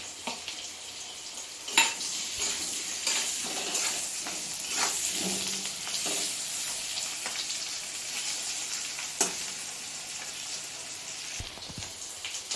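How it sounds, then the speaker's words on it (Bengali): Potatoes with salt and turmeric frying in a pan give a soft, steady sizzle, broken by occasional scrapes and clinks of a spatula stirring them; quiet and close, no talking. "আলুটাও নুন হলুদ দিয়ে ভাজা ভাজা মতন হয়ে গেছে"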